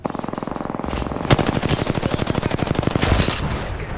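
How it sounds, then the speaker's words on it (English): Rapid automatic gunfire in the Apex Legends video game, a long sustained burst of evenly spaced loud shots preceded by a few quieter bursts, with no talking over it. "Damn, missed all those shots."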